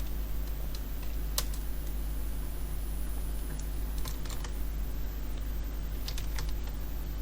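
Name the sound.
typing text on a computer keyboard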